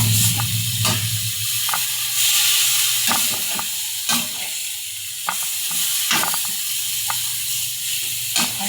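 Sliced bitter gourd (ampalaya) sizzles steadily in a hot pan, a constant close frying hiss broken by the sharp scrapes and clacks of a spatula stirring it, with no talking.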